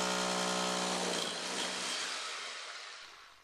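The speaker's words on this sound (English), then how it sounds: "Connect the pilot bit to the arbor, like this, and drill through the first course of brick." A power drill with a pilot bit on a hole saw arbor bores through the first course of a brick wall, a steady close grinding whine that slowly tails off as it cuts through.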